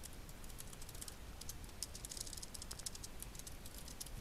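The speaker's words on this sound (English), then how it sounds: "So I'm just going to simply type the Egyptians" Fingers type text on a computer keyboard in quick, soft, irregular bursts of key clicks that continue steadily and faintly throughout, with no voices.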